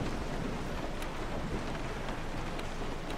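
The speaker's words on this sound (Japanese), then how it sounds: "うわあ、突然の大雨じゃん。" Heavy rain pours steadily in the survival horror game Resident Evil 7, a dense, even roar with faint low rumbles of thunder beneath it and no voices.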